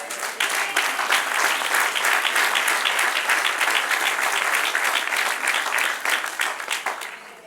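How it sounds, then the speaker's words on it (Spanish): Church congregation applauding, a dense, steady burst of clapping from many hands that fills the room for several seconds, then tapers off at the end. "Denle un aplauso al Señor."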